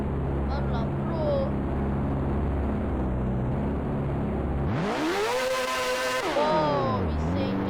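Motorbike engine in the Roblox highway game, a steady low drone that swells into a loud rising rev with harmonic sweeps, then drops and climbs again near the end, with talk over parts of it.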